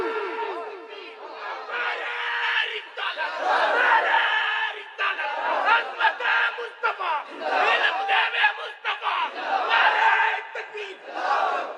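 Large religious gathering answers a Takbir call, a crowd roaring Allahu Akbar in loud, swelling chants that rise and fall in repeated waves, with shouting voices overlapping throughout.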